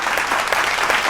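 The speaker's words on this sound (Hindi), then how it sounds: "तो जोरदार तालियां जो है बजती रहनी चाहिए" Loud, brisk clapping from a group fills the whole short moment, a dense patter of applause.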